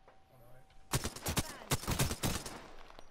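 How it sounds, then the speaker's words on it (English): Rapid gunfire in Apex Legends crackles in two dense bursts of sharp shots after a quiet opening, the reports fairly close and clustered tightly together. "I'm taking fire. Oh, I'm getting shot."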